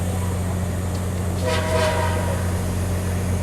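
The horn of a MARC P877 train at Point of Rocks sounds in one loud blast of about a second over the steady rumble of the passing train, close by.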